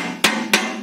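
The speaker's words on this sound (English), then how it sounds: "as you can see, a hammer and a nail" A hammer drives a nail while building a biochar cook stove, three sharp metallic strikes at an even, brisk pace, close and loud, with a ringing hum between blows.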